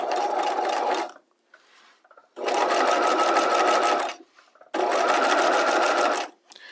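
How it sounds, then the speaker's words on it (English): A sewing machine stitches a bias strip seam in three loud, steady bursts, each about one and a half to two seconds long, with short quiet gaps between them for back tacking at the start and end. "Let's back tack at the beginning and end."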